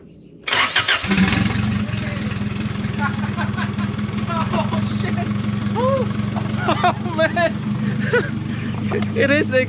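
A turbo-swapped Honda Civic engine cranks and fires after a moment of quiet, then settles into a loud, steady idle for several seconds while voices talk over it.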